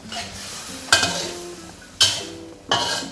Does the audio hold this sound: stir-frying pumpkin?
yes